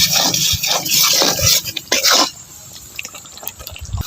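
Warm water poured into a masala cooking in a pan with spices such as cinnamon, sounding as a close, steady splashing pour for about two seconds that then tapers to faint drips and sizzle.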